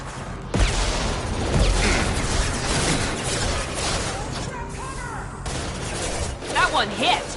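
Dense gunfire in Mass Effect Legendary, a loud sustained fusillade of shots and blasts mixed with combat noise, with voices shouting over the firefight.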